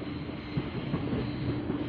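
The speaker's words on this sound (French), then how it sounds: "il y aura peut-être moins de trains à passer" A train rolls past on the rails in a steady, droning rumble, fairly loud and continuous with no voices.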